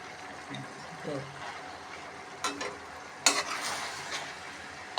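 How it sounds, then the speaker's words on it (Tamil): Torn parotta pieces are stirred into chilli parotta in a pan, soft scraping and stirring with a faint sizzle and a few louder spatula knocks, close and fairly quiet. "இப்போ வந்து பிச்சு போட்ட பரோட்டாவெல்லாம் சேர்த்து நல்லா மிக்ஸ் பண்ணிக்கலாம்"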